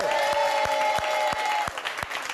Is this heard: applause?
yes